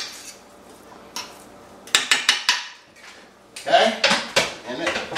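A utensil stirs ground turkey in a cooking pan, giving scattered scraping and clanking strikes that come in quick clusters, fairly close and clear over a quiet background.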